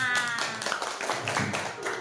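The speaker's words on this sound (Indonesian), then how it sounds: "beri tepuk tangan" A classroom of students gives a short burst of clapping for a group that has just finished presenting, close and fairly loud, with a voice speaking over it.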